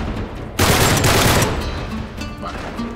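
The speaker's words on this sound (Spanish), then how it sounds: "¿Quién está disparando, tío?" A sudden burst of rapid automatic gunfire in the video game Uncharted 3: Drake's Deception erupts and rattles on for about a second before trailing into scattered shots and echoes.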